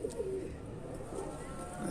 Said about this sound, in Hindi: ये जी हाफिज साहब का बड़ा मेन कबूतर है